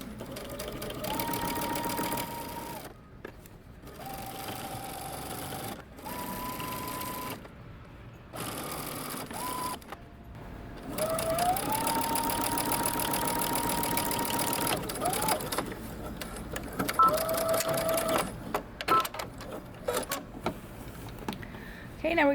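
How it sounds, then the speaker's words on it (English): Close up, a sewing machine stitches in the ditch along a seam line, running at a slow, careful pace in several separate bursts with short pauses between them, under occasional speech. "we're going to take this over to the sewing machine and we're going to stitch in the ditch"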